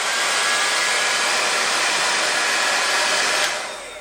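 A handheld hair dryer runs with both heat and fan on high, a loud, steady airy roar with a faint whine that continues for a few seconds and eases slightly near the end.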